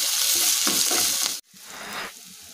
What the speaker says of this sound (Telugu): తర్వాత అల్లం వెల్లుల్లి పేస్ట్ వేసుకోవాలి. 2 మినిట్స్ ఫ్రై చేసుకోవాలి.